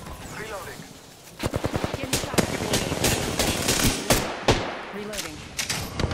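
Rapid bursts of automatic gunfire from the Apex Legends battle royale game crackle close and loud in quick volleys, with several sharp single shots breaking through between the bursts.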